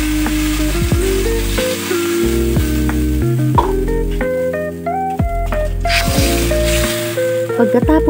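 Pork and string beans sizzle loudly in a hot pan while being stirred, with repeated scraping and clinking strokes over a steady frying hiss and no talk.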